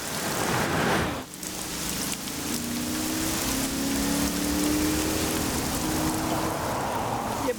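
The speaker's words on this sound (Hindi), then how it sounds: "एक तो आज बारिश भी बहुत तेज है" Heavy rain pours down steadily and loudly, a dense continuous hiss of drops on surfaces with a brief dip near the start, no voices present.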